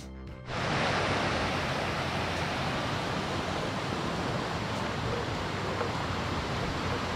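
River rapids in Barron Canyon, Algonquin Park, rush in a broad, steady roar that swells in within the first second and stays loud and close.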